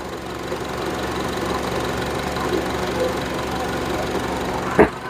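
A car engine idles with a cylinder 4 misfire, producing a steady, slightly uneven rumbling idle close to the listener, with a single louder thump near the end.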